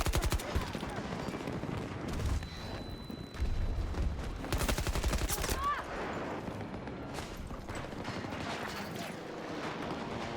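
Bursts of rapid automatic gunfire and heavy booms from the Battlefield 2042 video game rattle loudly and continuously, with dense volleys and an explosion-like thump partway through.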